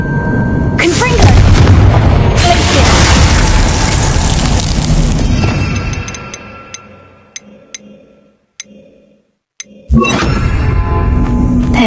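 A Confringo blasting spell explodes in a video game, a loud sustained roaring blast that fades into ticking debris and small crackles, then a second sharp burst near the end.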